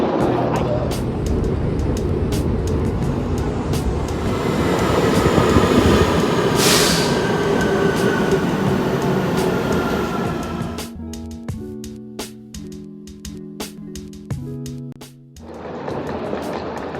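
An Istanbul metro train rumbles steadily, then brakes squeal with tonal screeching as it slows, before the rumble returns; loud and close, no talking.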